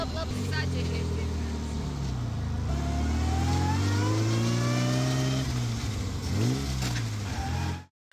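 A vintage Bugatti car engine runs loud and steady, its pitch rising as it accelerates, then easing and cutting off abruptly near the end.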